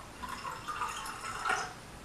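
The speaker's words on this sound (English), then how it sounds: "Let's pour some in there." Alkaline water, a Propel drink, poured into a container, giving a soft, steady trickle and splash that swells briefly near the end, moderately close and fairly quiet with no voices.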